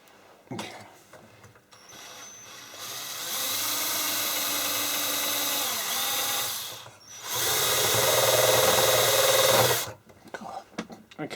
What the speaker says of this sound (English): Not much fun watching me drill rivets out, I suppose